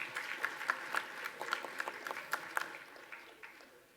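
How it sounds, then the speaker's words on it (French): A conference audience gives faint, scattered applause at the opening of a colloquium, with individual claps audible at first and then thinning out and fading toward the end. "Alors, je tiens à les applaudir."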